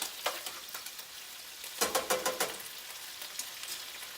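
Peppers sizzle with teriyaki sauce in a hot pan, a close, steady frying hiss broken by bursts of crackling as they are stirred, with no talking.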